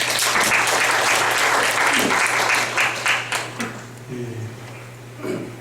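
Audience applause greeting Professor Shin Jong-woo at a university lecture on interactive teaching, steady for a few seconds, then trailing into scattered claps over a low electrical hum.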